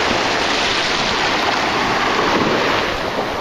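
Small rolling waves break steadily across a windy bay, a continuous close wash of surf with wind buffeting the microphone and no voices.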